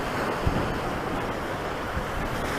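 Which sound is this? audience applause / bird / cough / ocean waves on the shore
ocean waves on the shore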